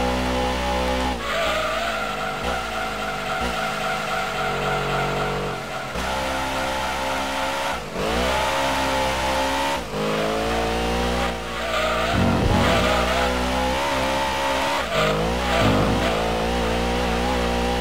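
Simulated NASCAR race car in Gran Turismo 2 on a Daytona-style oval, a loud continuous engine roar rising and falling through gear shifts, with repeated tire skidding and squeal layered over it throughout.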